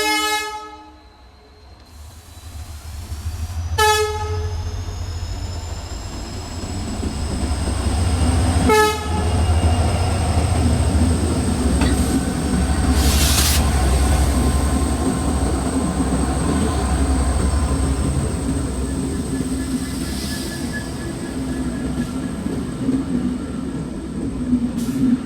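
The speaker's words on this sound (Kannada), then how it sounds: "ಗೂಡ್ಸ್ ಗಾಡಿ ಗೂಡ್ಸ್ ವ್ಯಾನ್." A goods train passes on the Dudhsagar railway track in forest beside water, sounding its horn in several sharp blasts before a long, loud, continuous rumble of wagons rolling by close.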